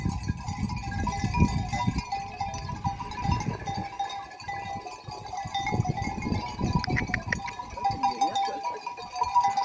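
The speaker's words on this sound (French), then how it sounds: "Nina, avec les chèvres." A herd of goats bleats repeatedly over gusty wind, several wavering calls overlapping at moderate distance.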